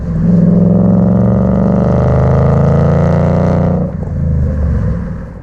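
A Ford Mustang GT with a MagnaFlow Competition 3-inch axle-back exhaust revs up loud and close, a deep steady roar that holds for several seconds, then drops off briefly before rising again.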